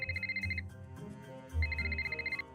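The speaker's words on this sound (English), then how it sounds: "Phone call." A telephone rings inside a Nancy Drew mystery game, with two bursts of rapid electronic trilling separated by a brief gap, loud and clear over a low musical background.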